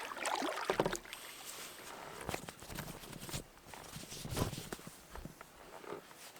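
Paddling a boat on a lake, with irregular splashes and knocks of paddle strokes close by, soft water swishing between them and no talk.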